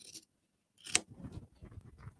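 Scissors snip through pinned layers of fabric while cutting the corners of a drawstring bag panel, one sharp cut followed by softer rustling and handling noises, close and fairly quiet.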